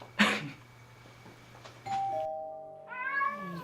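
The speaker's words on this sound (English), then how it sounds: "Ring the bell." A doorbell chimes once with a clear two-tone ring, after a short cat meow, in a quiet room.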